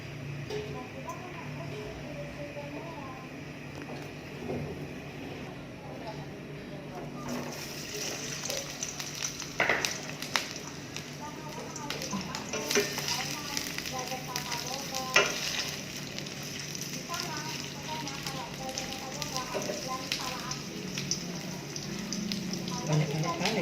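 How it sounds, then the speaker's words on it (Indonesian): Tempeh frying half-cooked in hot oil in a home kitchen, a soft continuous sizzle that grows busier and louder partway through, with occasional stirring clinks and scrapes. "Saya akan menggoreng tempenya setengah masak."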